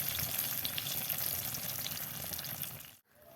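Eggplant slices sizzle steadily in hot oil in a pan while cooking begun sundari, a loud, dense frying hiss that runs unbroken and then cuts off abruptly near the end.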